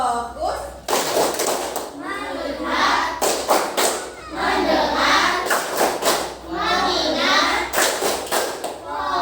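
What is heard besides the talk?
children doing a rhythmic clapping game (tepuk fokus)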